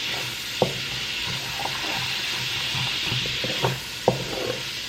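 Garlic sizzling in a pan for shrimp scampi, a steady close hiss broken by a few clacks of a utensil stirring, with no voices.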